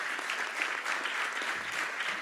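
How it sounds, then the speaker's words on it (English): Dense, steady applause from the audience at a university board of regents meeting, honoring an award recipient. The clapping is continuous and evenly loud with no talk over it. "Give him a round of applause for being one as well."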